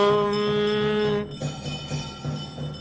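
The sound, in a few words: bell rung during incense offering in a ritual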